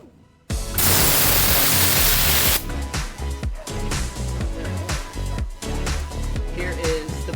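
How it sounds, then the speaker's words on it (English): A car-detailing air blaster gives a loud burst of rushing air for about two seconds, then gives way to a lower, fluttering blowing sound that continues with uneven pulses. "So, here's the air blaster."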